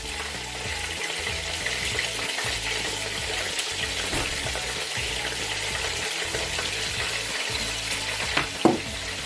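Dark soy sauce hits a hot pan of chicken spaghetti with vegetables, raising a loud, steady sizzle with scraping stirs throughout and a sharper clink near the end.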